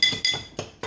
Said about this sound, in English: So we have our 4 eggshells in here. So while our water is boiling, you want to crush them up